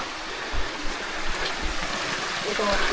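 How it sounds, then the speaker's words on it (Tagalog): Water flowing through a gap in rock inside a cave, a steady broadband rushing and trickling wash with a few low splashes, close and continuous. "at may ibang lusutan na naman ng tubig"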